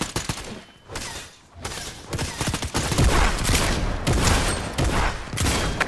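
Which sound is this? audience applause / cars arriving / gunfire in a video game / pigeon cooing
gunfire in a video game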